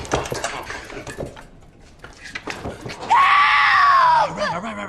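A woman screams in fear for help, a sustained shrill cry after a few seconds of scuffling and clattering, loud and close.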